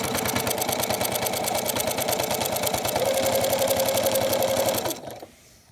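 A sewing machine stitches a quarter-inch binding around the layers of a pinwheel quilt, running in a fast, steady mechanical chatter for about five seconds before it stops abruptly.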